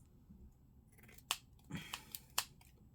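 Scissors snip paper and lace for junk journal embellishments, a few crisp cuts up close against quiet room noise, spaced irregularly.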